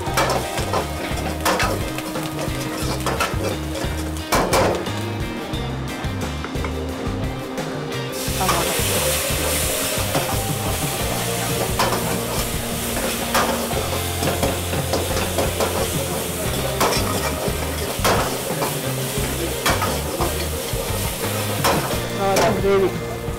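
Curry leaves frying in a pan for Andhra fish curry, a continuous bright sizzle and hiss with frequent stirring scrapes and clinks of a utensil against the pan, loud and close, no talking.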